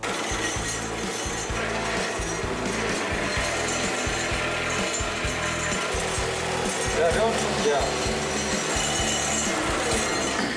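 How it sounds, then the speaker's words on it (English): A motorcycle drive belt is cut in half to make a 1-inch belt for a custom chopper build, producing loud, steady, rhythmic sawing strokes that run continuously through the whole stretch. "Now I'm gonna chop the belt in half."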